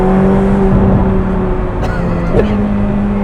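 Ferrari 488 Pista engine accelerating at half throttle, heard from inside the car as a loud, steady droning hum with a smoothly rising pitch and a brief shift-like dip partway through.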